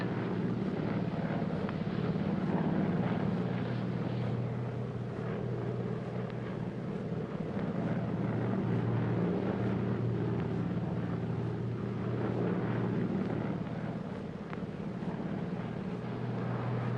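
A steady, low engine drone fills an airplane cabin in flight, continuous and even throughout with a broad rumbling hum and no break or change in level.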